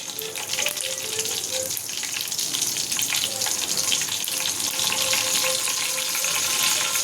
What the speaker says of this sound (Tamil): ஆயில் சூடானதுக்கப்புறமா கடுகு சேர்த்துக்கலாம். கருவேப்பிலை சேர்த்துக்கலாம்.